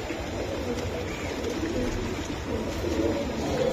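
Giribaz racing pigeons coo softly in a loft, with low, repeated murmuring calls over a steady background hum.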